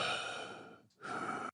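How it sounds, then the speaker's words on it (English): Heavy breathing straight into a microphone: one long, loud, breathy exhale, a brief pause, then another strong breath that stops abruptly, very close. "Just gonna heavy breathe into the mic."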